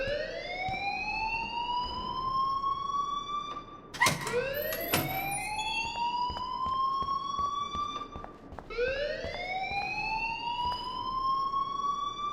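Alarm ringing in the Life is Strange video game, a loud electronic siren-like tone sweeping upward repeatedly in long rising whoops, with a brief clattering burst near the middle and steady background noise throughout.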